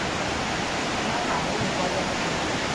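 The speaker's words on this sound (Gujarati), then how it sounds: "તમે ઝરણાનો અવાજ સાંભળી શકો છો" Steady broadband rush of a stream flowing beside the Sundha Mata temple in the evening, continuous and fairly close, with faint voices in the background.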